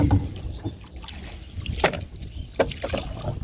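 A wooden rowboat moves across a flooded paddy field. Soft oar splashes and knocks come at irregular intervals under gentle wind, close and fairly quiet.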